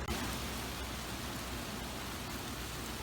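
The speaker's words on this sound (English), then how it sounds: "we're glad we're getting this rain now" Steady rain falls on a hot summer night at a cemetery, where a grave is being dug; a dense, even hiss holds constant across the whole stretch with no talk over it.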